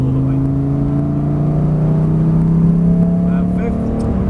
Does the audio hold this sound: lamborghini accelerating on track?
yes